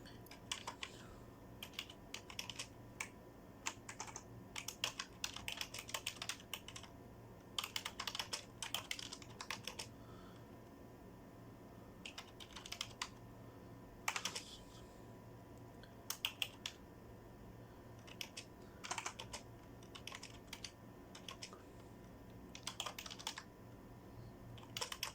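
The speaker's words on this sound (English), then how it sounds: "For example, I type something here." Typing on a computer keyboard in a word processor, irregular clusters of light clicking keystrokes with short pauses between bursts, close and fairly quiet, no voices.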